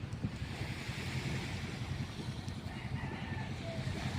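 A calm sea laps steadily around a hired wooden boat, giving a continuous soft wash of surf mixed with wind buffeting the microphone, fairly close and without a break.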